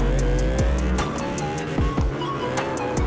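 A Cobra GT530 drift car in CarX Drift Racing Online revs hard through gear changes, its engine rising and dropping repeatedly while the tires squeal in a steady, loud drift.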